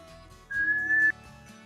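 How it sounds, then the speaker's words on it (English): A single sustained whistled tone, clear and close, rising slightly in pitch and held for about half a second during a relaxation exercise, with faint room noise around it and no talking. "It's impossible to be in a bad mood when you're whistling."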